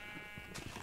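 A single short, buzzy sheep bleat from Minecraft, close and clear over quiet in-game ambience.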